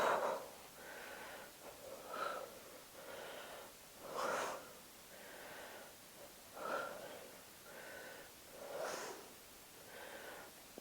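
Rhythmic breathing during an ab workout for women over 40, a series of about nine close, breathy puffs and sniffing inhales spaced roughly a second apart, quiet and without speech.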